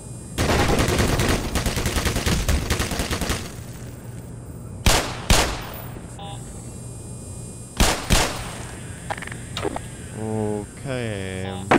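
Black Mesa gameplay in an office complex, with a turret firing on headcrabs: a dense, loud burst of rapid automatic fire, then a run of separate sharp shots and echoing mechanical clatter.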